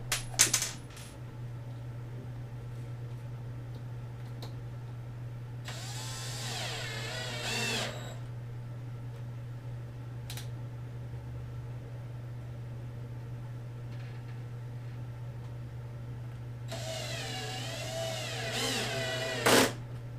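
Power drill with its clutch turned down drives #8 by 1 1/4 inch screws into a wood spacer for a chest of drawers, two distinct whirring bursts of about two seconds each over a constant low hum.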